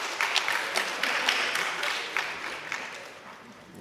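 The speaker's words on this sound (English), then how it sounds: "one more round of applause for Mr. Alvarez." Moderate round of applause from high school seniors after a school presentation, distinct individual claps up front fading out over a few seconds, with a voice murmuring faintly underneath.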